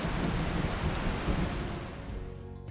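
Steady rain pours down with a low rumble of thunder beneath it, a continuous wash of noise that fades slightly near the end, heard during grain loading of a bulk carrier ship.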